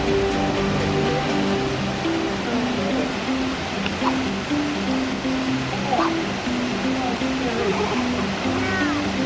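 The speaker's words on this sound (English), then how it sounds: "we are just pulling into Manganese Falls, another waterfall for us to see" Manganese Falls in Michigan produces a steady, broad rush of falling water that holds level throughout. A low tonal hum runs underneath, and a few faint chirps show through the roar.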